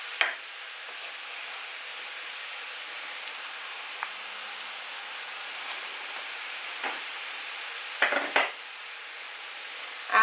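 Butter sizzles in a pan with a steady, soft hiss, broken by a few brief scrapes of stirring, with no voices.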